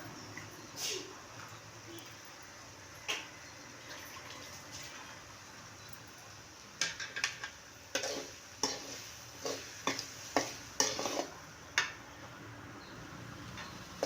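Cabbage and egg stir-fry is mixed in a pan: a soft background sizzle, then a run of quick, fairly close spatula clacks and scrapes in an uneven rhythm.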